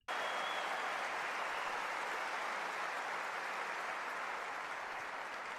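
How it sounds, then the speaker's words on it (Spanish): Ovation at an economic forum in Madrid, applause bursting in abruptly and holding as a dense, steady roar of many hands clapping in a large hall, constant and enveloping for several seconds. "¿Se levantarán y le darán una ovación?"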